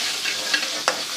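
Garlic ginger paste frying in leftover ghee, with a steady soft sizzle and a couple of brief stirring scrapes near the end, close and continuous with no talk.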